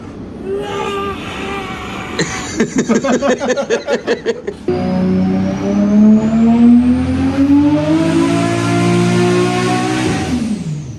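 A turbocharged Holden Commodore VL engine revs in rapid pulses, then accelerates hard with a rising, strained roar that climbs steadily in pitch, loud and close.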